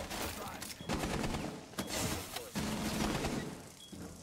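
Gunfire aimed at a laser gate in Rainbow Six Siege comes as a few sharp shots and short volleys within a busy, moderately quiet game mix.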